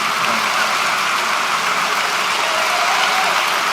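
A dense, even wash of applause from an audience for the speakers at a live evening talk event in Vancouver fills the hall loudly without a break, with no voices rising above it.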